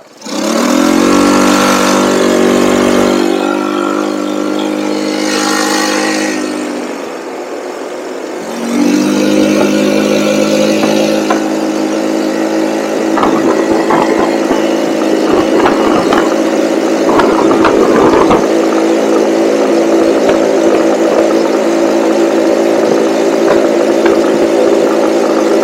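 Cheap used off-road buggy engine running close by, a steady idle with a brief revving rise, then a dip and sag as it cuts out before picking back up, with rattling mechanical noise through the rest.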